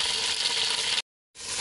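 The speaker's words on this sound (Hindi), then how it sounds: "चिकन हमने डाल दिया, अब हम इसको फ्राई कर लेंगे।" Chicken fries in about half a cup of oil in a pot, a close, even crackling sizzle that cuts out abruptly for a moment before resuming.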